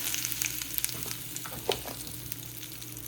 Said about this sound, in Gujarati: તેલ ગરમ થઈ ગયું એટલે આપણે નાખીએ રાઈ, પછી નાખીશું જીરું થોડું, હવે નાખીશું હિંગ